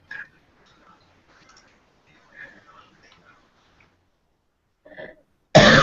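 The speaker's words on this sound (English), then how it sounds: "We got those smokers' coughs." A single harsh smoker's cough bursts out loudly and close at the very end, after several seconds of faint, quiet talk.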